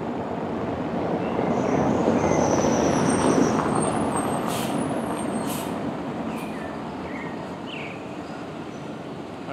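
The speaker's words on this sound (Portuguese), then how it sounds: "Agora tem um ônibus tá passando." A bus passes along a residential street in a loud, broad rumble that swells and slowly fades, with faint birdsong and a brief hiss of brakes above it.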